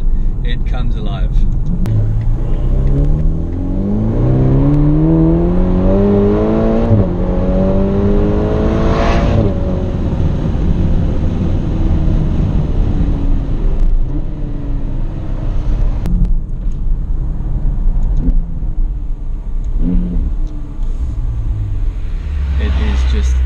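A Ferrari Portofino in sport mode revs up loudly, its engine note climbing in pitch then dropping back, with a deep rumble throughout and a voice talking over it.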